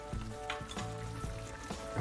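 Braised pork trotters cooking in a pot with beer give a soft, close bubbling and sizzle with intermittent pops, a continuous low-level simmer and no talking.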